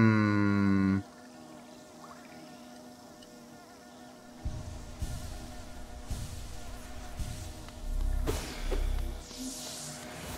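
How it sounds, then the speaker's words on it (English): Buzzing bee enemies in the video game Hollow Knight drone and swell intermittently amid other game effects, opening with a loud tone and later rising in louder bursts. "It's like, definitely seems like there's like bee enemies."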